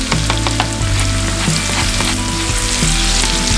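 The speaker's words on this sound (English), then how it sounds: "then we start putting the pierogies in there" Pierogies frying in a hot pan with onions and spices, a steady loud sizzle with sharp crackles and spatters and occasional scraping or stirring clatter, close up with no talking.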